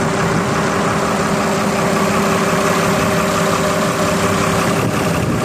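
A freshly overhauled Fiat New Holland tractor engine running at a steady idle, a loud continuous rumble with a droning hum, close by and uninterrupted.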